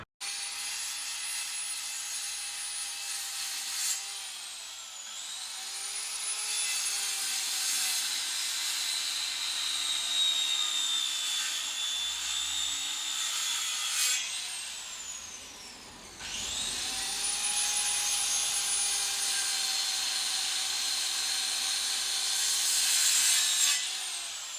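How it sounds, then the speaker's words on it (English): Electric saw cutting through wood outdoors on a farm construction site, a loud steady whining drone that runs on and off in two long passes with a brief dip between cuts, no talking. "the electric saw is over here and it's really strong on the wood"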